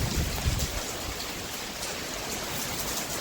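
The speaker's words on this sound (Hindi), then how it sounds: "दोस्तों, ये है पहली बारिश रायपुर की हमारे।" The season's first rain falls in Raipur, a steady, dense hiss of drops on surfaces. It sounds soft and even throughout, with no voices.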